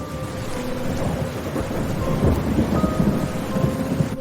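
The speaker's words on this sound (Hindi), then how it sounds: "एक रात बहुत तेज बारिश हो रही थी।" Steady heavy rain pours down with a deep rumble of thunder rolling underneath, continuous and loud, no voices.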